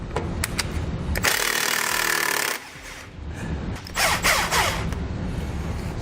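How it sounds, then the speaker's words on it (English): A 3/4 inch socket on a ratchet loosens suspension nuts on a truck while helper springs are fitted, giving a burst of loud metallic ratcheting and tool noise, then quieter scattered clicks and clanks. "Take a 3/4 inch socket and we're going to loosen the nuts."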